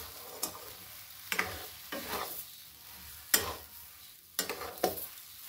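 Spoon stirring sugar into a watermelon laddoo mixture: several separate scraping, stirring strokes spaced a second or so apart, close and fairly quiet, with no talking.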